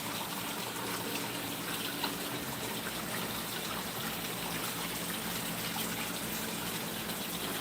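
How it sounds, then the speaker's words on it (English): Water from a small waterfall pours steadily into a newly filled pond, a constant broadband gush with no breaks or voices. "I do like that waterfall."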